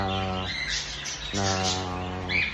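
A pair of cockatiels in a home aviary, giving repeated harmonic chirps and whistled calls close by, with brief pauses between calls and no talk.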